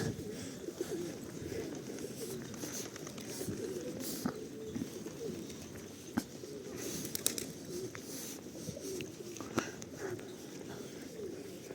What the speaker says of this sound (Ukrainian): Голуби, полетіли.